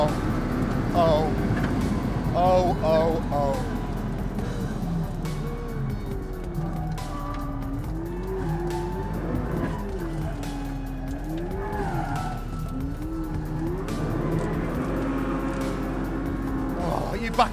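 A McLaren P1 drifting on a race track, its engine droning loudly and rising and falling in pitch with squealing tires, heard continuously throughout while someone talks excitedly over it.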